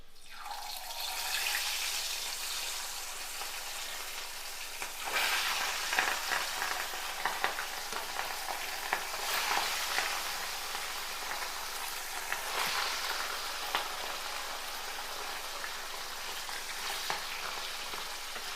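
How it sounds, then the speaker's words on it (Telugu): Fish pieces frying in a small pan of oil give a steady, dense sizzle and crackle that swells at moments, with faint stirring and clinks, and no voices. "ఇది పక్కన పెట్టేసుకొని ఇప్పుడు నెక్స్ట్ బ్యాచ్ ఫ్రై చేసుకుందాం"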